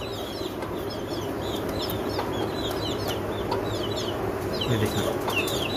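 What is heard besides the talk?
chickens clucking, chicks of a black rooster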